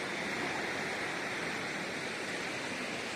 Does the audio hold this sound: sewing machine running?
no